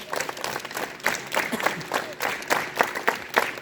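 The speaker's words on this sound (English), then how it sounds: "Clap your hands." Students at a school assembly clap their hands together in a loose crowd, with rhythmic bursts of applause rising and falling over a few seconds.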